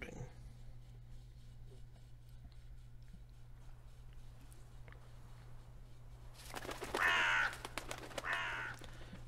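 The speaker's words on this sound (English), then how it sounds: "Oh, the birds, they're spying on me." Crows caw loudly in a short burst of harsh calls near the end, over a steady low hum and quiet background, in the video game The Witcher 3: Blood and Wine.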